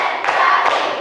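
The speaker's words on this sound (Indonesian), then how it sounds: "Tepuk semangat. Tepuk 1, tepuk 2, tepuk 3, tepuk 4," A classroom group claps together in a rhythmic cheer, with two quick, fairly loud claps close together amid a dense wash of voices.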